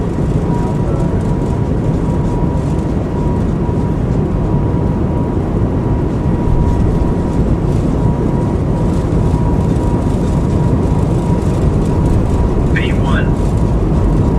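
Steady, loud roar of an Airbus A220-300 airliner's jet engines at takeoff power in Microsoft Flight Simulator 2024, a broad continuous rumble with a faint whine throughout and brief cockpit chimes near the end.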